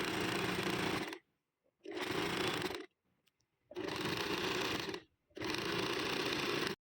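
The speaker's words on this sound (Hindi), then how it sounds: "बस अब हम यहाँ सिलाई लगा देंगे, दोनों हिस्सों को जोड़ देंगे" A sewing machine stitches two parts of a kurti together in four loud, rapid bursts of about a second each, separated by short pauses of near silence.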